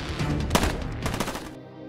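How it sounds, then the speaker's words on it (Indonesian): Gunfire in an action film, a burst of loud, close shots that crack and rattle in rapid succession over a short stretch, then drop away into a quieter tail. "tembak-tembakan."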